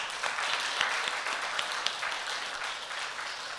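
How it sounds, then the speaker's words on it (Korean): A church congregation claps together in sustained, even applause, fairly distant and filling the hall, with no speech over it. "여러분 박수 한번 올려드립시다"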